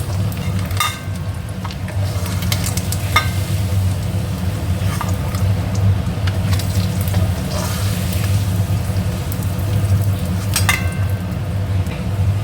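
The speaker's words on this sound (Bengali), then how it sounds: "এবার ওই একই তেলের মধ্যে সেদ্ধ করে রাখা আলুগুলোও দিয়ে দিলাম আলুগুলোও একটু ভাজা ভাজা করে নেব" Boiled potatoes tossed into the same hot oil used to fry duck eggs for biryani, giving a steady low sizzle and bubbling, with a few sharp clinks and scrapes of utensils over it.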